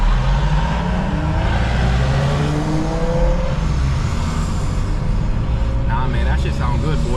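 A BMW M5 engine rumbles nearby as a dense, steady low roar with rising rev tones from inside a moving car, and talk runs over it.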